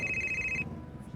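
A telephone rings loudly with a steady electronic trill that stops abruptly partway through, leaving a quieter room behind.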